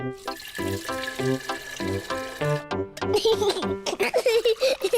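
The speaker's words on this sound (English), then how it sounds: "Yes, let's fill it with water." Cartoon water pours into a toy dinosaur used as a teapot, heard as a bright, bubbly, tonal trickle that rises near the end, following a stretch of plucky, musical cartoon tones.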